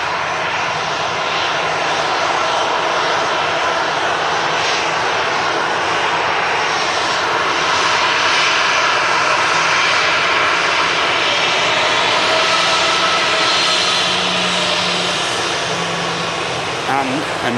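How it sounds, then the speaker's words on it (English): Two airliners, a Pegasus jet and a Heathrow-bound British Airways aircraft, taxi across the runway at Manchester Airport, giving a steady, continuous engine roar that stays loud and unbroken throughout. "Two aircraft now crossing the runway. Both the Pegasus and the London Heathrow bound British Airways."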